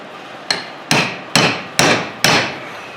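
Five sharp, evenly spaced metal hammer blows driving a u-joint into a Dodge Ram Cummins front driveshaft, each strike close and loud with a short ringing decay.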